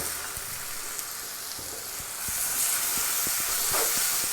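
Lemon juice poured into a pan of masala cooked down for karimeen pollichathu sets off a loud, steady sizzle and hiss that grows stronger partway through, with faint stirring clicks beneath.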